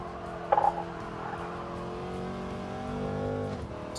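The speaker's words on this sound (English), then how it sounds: "So once I hear the engine start to strain out" Race car engine in Gran Turismo 7, a Spec III car, revving steadily toward about 6,000 rpm with a sustained droning whine that rises slightly and then drops near the end, after a brief sharp blip early on.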